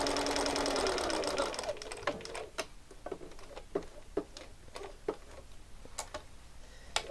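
A sewing machine fitted with a sharp jeans needle stitches in a fast, whirring mechanical run that dies away. It gives way to a sparse, irregular series of distinct ticks and clicks.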